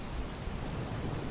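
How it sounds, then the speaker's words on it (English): Steady pouring rain roars without a break, with low rumbling thunder mixed into the dense wash of sound, loud and continuous throughout. "Thunder boomed overhead, a sinister soundtrack for what was about to come."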